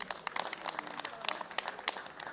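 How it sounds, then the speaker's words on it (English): Audience applause for a side referee being introduced at the 2016 World Bench Press Championships, a steady patter of many hands clapping at moderate distance, filling the hall without any voices on top. "Give me a round of applause for Takeshi Monoe"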